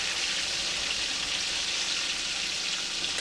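Potatoes frying in bacon grease crackle and sizzle steadily up close, a constant hissing spatter with no talk over it.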